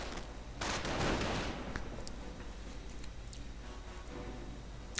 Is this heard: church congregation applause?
no